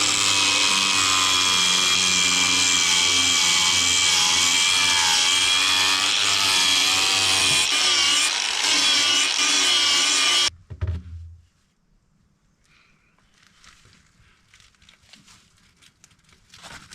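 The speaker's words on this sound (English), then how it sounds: "I've been able to get a cordless angle grinder, which has come in handy for all of these piping jobs." A cordless angle grinder cuts soil stack piping during plumbing work in an old Irish cottage, a loud, steady whining roar for about ten seconds that then cuts off abruptly, leaving a quiet room with faint shuffling.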